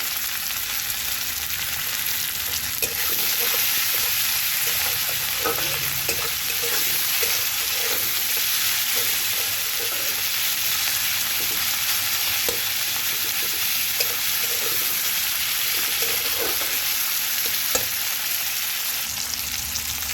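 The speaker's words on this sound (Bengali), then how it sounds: "টমেটো পেঁয়াজটাকে খুব ভালো করে ভাজা হয়ে গেছে" Tomato and onion fry in a pan with a constant dense sizzle, while a utensil stirs and scrapes in scattered light taps throughout.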